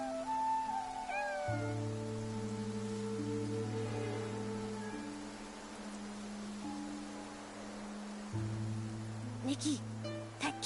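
A cat in the video game Infinity Nikki gives a few soft meows near the start, faint beneath sustained musical tones and a voice, then falls quiet.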